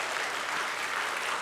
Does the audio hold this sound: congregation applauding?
yes